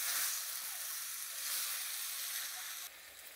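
Country chicken gravy masala sizzles and stir-fries in a pan, a steady bright hiss running throughout, close and fairly quiet, with no voices.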